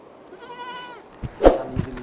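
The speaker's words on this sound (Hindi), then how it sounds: "बकरी" Goat bought at a riverside market, a single nasal, wavering bleat that is close and clear, followed by a few thumps and shuffling.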